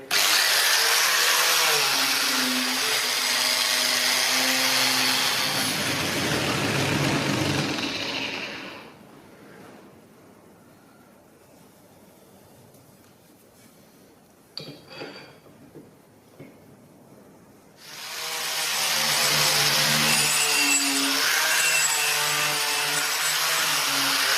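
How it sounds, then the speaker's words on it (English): Wire brush scrubbing metal on a Land Rover in a workshop before welding, a loud steady rasping scrape that runs for several seconds, stops for a quieter stretch with a few faint knocks, then resumes just as loud. "Just want to give this a wee bit of a wire brush here."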